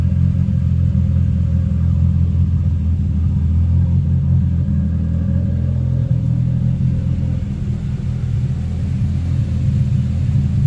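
A 2019 Camaro SS V8 with its secondary catalytic converters deleted idles with a loud, steady, deep exhaust rumble. The tone stays even and close throughout, with no talk over it.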